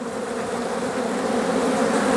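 Honeybees swarm close around a camera at an open hive during a March inspection, a dense steady buzz that holds loud and even throughout with no talk.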